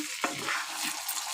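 A spoon stirs stuffed brinjal curry in hot oil, giving a quick scraping turn over a steady close-up sizzle of frying.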